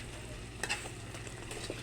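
Biko, a sticky rice cake, being stirred in a pan, heard as a quiet, continuous soft sizzle and scraping with a couple of light utensil taps over a low background hum.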